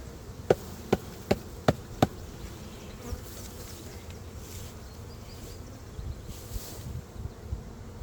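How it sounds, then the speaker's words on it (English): Honeybees on a hive lid at an apiary during a hot, humid dearth, giving a low steady buzz throughout, with about five sharp knocks in the first two seconds as the bees are shaken from the lid. "These bees are still hanging out up on the lid."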